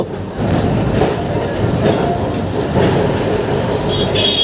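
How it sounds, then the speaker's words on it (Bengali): Kolkata tram running on rails from Tollygunge toward Ballygunge, heard from inside as a steady loud rumble with rhythmic clattering of wheels over the track and faint metallic squeals. "তো এখন যাচ্ছি ট্রামে করে।"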